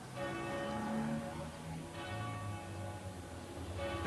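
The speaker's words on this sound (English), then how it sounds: "The bells of City Quay." Church bells of City Quay, Dublin, ring out in overlapping, resonant peals, sustained tones layering and fading as new strikes come in, moderately distant.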